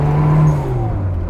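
A turbocharged 1966 Austin Mini Cooper under way, its transmission whining close and loud over a steady engine drone, with the pitch slowly sliding downward.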